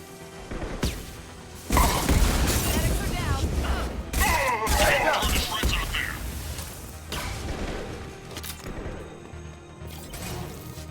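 Grenade blast amid combat in the Mass Effect 2 Legendary video game, with heavy booms, crashing debris and bursts of gunfire over several seconds while voices shout through the fight.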